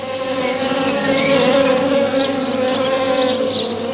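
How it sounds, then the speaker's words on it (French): Drone flies and bees buzz steadily and close at yellow ivy flowers in a dense insect hum, with swelling wingbeat whines passing near and no voices. "Alors arrivent les faux bourdons qui adorent le pollen du lierre et qui sont attirés par sa couleur jaune."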